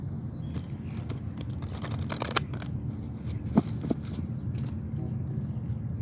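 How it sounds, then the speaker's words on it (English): Tarot cards are shuffled up close in a few soft riffling bursts and taps over a low background hum. "I'm gonna shuffle these one more time."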